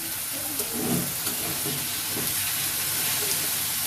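Crab pieces dropped into frying spice paste for Singaporean chilli crab, giving a steady, close hiss and sizzle that holds for the whole stretch with some faint clatter underneath.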